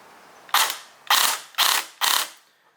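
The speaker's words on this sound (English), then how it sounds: "when I press the trigger on semi, it's actually overspinning the gears and actually not making just one rotation" Krytac CRB airsoft AEG with a DSG upgrade firing on semi-auto with its gears overspinning, four sharp mechanical bursts in a steady rhythm, each a loud whirring clatter that trails off, close and clear with no talk.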